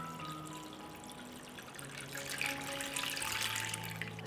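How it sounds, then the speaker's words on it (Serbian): Water runs into a cooking pot lined with a cloth and holding jars set for pasteurising, a quiet continuous trickle and splash that grows a little fuller partway through, with faint background hum and no voices. "Sipam vodu u šerpu do visine poklopca."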